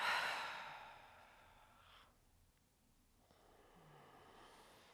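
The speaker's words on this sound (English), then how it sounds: "inhale deeply and exhale completely." A slow, deep breath during a seated yoga practice: a strong breathy inhale at the start that gradually fades, a near-silent pause, then a softer, drawn-out exhale, close and alone without talk.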